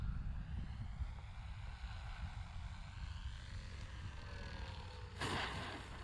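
An EC 1500 twin RC airplane comes in for a grass landing, its electric motors a faint, steady distant drone that swells slightly near the end.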